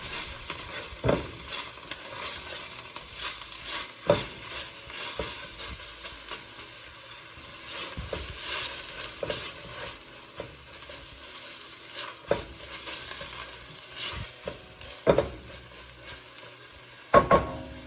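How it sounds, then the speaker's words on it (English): Onions frying in a pan as the base for a Thai red curry, with a steady sizzle broken by intermittent scraping and clinks of a utensil stirring against the pan. "Now add in the onions. We'll just cook the onions for 1 minute."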